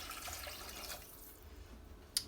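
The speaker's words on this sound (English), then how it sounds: "We're going to go ahead and put our water in." Water poured from a tap or container into a sauteing pot, a soft splashing rush that tapers off, ending with a single sharp clink.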